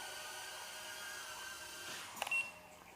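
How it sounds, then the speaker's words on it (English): A TinyHawk II drone's alarm gives a few short, sharp beeps, close and fairly quiet over a steady background hiss. "And I'm going to turn off this alarm."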